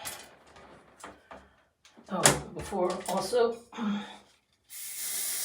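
Argan oil spray hisses in a steady burst onto the ends of hair during a salon straightening styling session, coming right after a stretch of talk.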